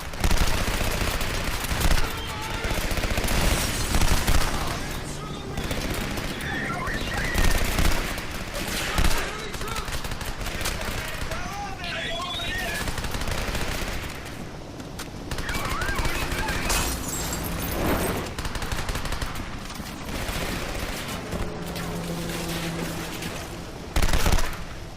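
Enemy gunfire in Halo on hard difficulty crackles in dense bursts and rapid volleys throughout, with explosions and scattered game sounds mixed in.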